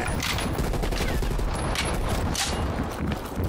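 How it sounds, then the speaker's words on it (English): Rapid bursts of video game gunfire, bullets spraying in a steady loud stream with several heavier volleys throughout. "gotta do my best to avoid all these bullets coming at me"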